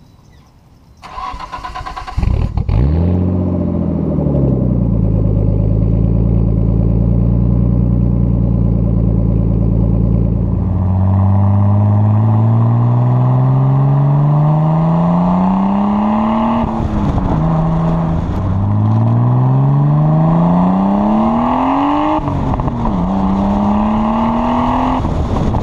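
A Nissan Skyline R32 GTST starts up loudly and settles into a deep, rumbling exhaust idle, then is revved several times in rising and falling sweeps, heard close and alone.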